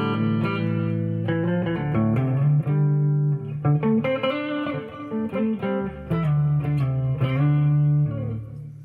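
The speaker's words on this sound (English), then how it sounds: "First of all, some clean tones." Clean tones from a 1989 Korean-made Epiphone Les Paul Standard electric guitar with upgrades, played loud and close with ringing chords and single-note runs that sustain between strokes, without any talking.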